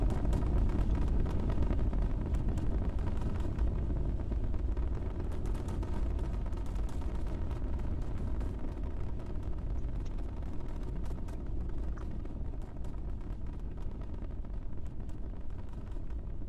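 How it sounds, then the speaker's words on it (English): Super Heavy Booster and Starship Raptor engines roaring at launch, a dense continuous low rumble with crackling texture, steady and loud throughout with no voices. "Come feel the rumble of the Super Heavy Booster and the Starship."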